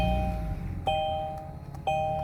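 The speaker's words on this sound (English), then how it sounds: "It's probably chiming because the door's open." A Renault Arkana's door-open warning chime sounds three times inside the car, each a clear electronic ding about a second apart, ringing over a low cabin hum with no talking.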